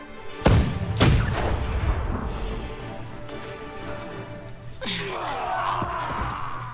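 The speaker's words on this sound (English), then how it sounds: "They've got cannons." Cannon fire in the video game Guild Wars 2: two heavy booming blasts close together near the start, then rumbling battle noise and a voice later on.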